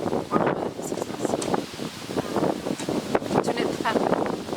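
Gusty wind blows across an outdoor garden, buffeting the microphone in rumbling bursts throughout, with someone talking over it.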